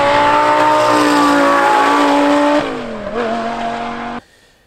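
A V10 engine, likely from an Audi R8, revs hard and loud at high RPM in a sustained scream, drops in pitch partway through, then climbs again briefly before cutting off abruptly into near silence.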